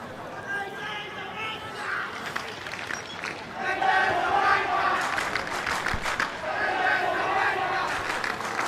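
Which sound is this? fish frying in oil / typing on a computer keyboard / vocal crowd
vocal crowd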